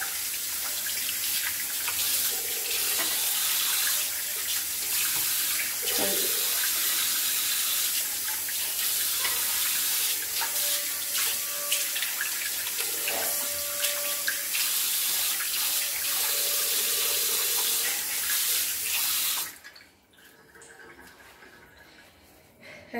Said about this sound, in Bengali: এই যে এরকমভাবেও কিন্তু আমরা হাতটাকে সুন্দর করে সাবান দিয়ে ধুয়ে নিতে পারি।